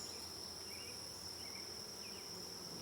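Honey bees in an open hive hum in a soft, steady drone, faint and continuous, with a thin high whine held throughout and no voices.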